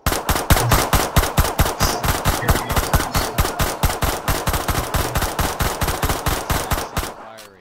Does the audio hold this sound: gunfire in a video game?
yes